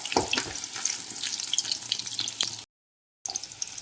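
Shallots, garlic and curry leaves fry in hot coconut oil with a loud, steady sizzle and crackle, cut by a brief silent gap before the sizzling resumes.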